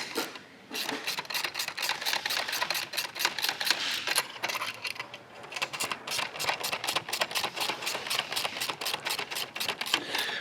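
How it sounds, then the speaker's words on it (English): A wrench loosens 13 mm housing bolts on a Xero Pure Max Plus water system, giving fast, steady ratcheting clicks in two long runs with a brief pause between, close and fairly loud. "you can loosen this housing with the bolts here, size 13 millimeter or 1/2 inch."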